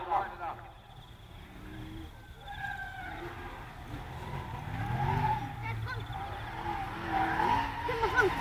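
1999 Ford Falcon drift car sliding sideways at Leadfoot 2013, tires squealing in wavering tones over a rising engine roar at middle distance, with an announcer talking over it throughout.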